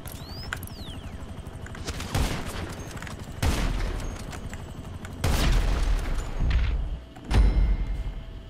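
Explosive sniper rifle shots in GTA 5 Online: four or five loud, separate booming blasts spaced a second or two apart, each with a rumbling tail, over a quieter background of game noise and no speech.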